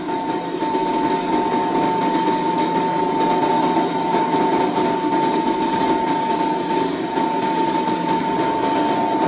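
An electric motor runs steadily on a test bench during a balancing exercise, giving a continuous loud hum with a strong steady tone and a constant whirring drone throughout, with no talk.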